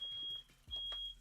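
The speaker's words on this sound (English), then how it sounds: "Can you guys hear that alarm still?" An alarm gives out a thin, steady electronic beep in two sustained pulses separated by a short gap, faint and fairly distant in a quiet room.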